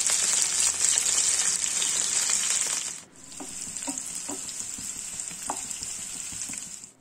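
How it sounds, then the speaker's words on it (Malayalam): Dried shrimp fry in hot coconut oil with a loud, steady hissing sizzle close by, briefly dipping around the middle as they are stirred, with light scraping taps afterward and no talking. "ചെമ്മി നല്ലോണം വറുത്തെടുക്കണം"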